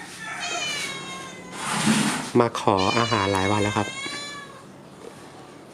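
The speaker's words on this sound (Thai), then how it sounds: "แมวจอนครับ ไม่รู้ชื่อนะ" A stray ginger cat meows loudly up close, giving a couple of drawn-out, wavering cries, while someone talks over it in Thai.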